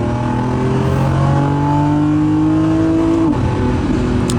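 Lamborghini Revuelto hybrid V12 supercar accelerating hard from inside the cabin, a loud steady engine note climbing in pitch through the revs with a brief dip near the end as it shifts, no talking.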